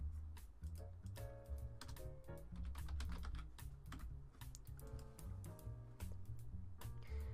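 Steady, dense typing on a computer keyboard while entering a search in a Windows control panel, clicks rapid and close with brief pauses, with no talk over it.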